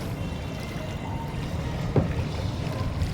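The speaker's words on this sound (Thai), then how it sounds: "เพิ่นพายเรือ" A boat paddled along the river at Vang Vieng, Laos, with soft steady water wash and gentle trickling throughout, one sharper splash of a paddle stroke midway, fairly close and with no talking.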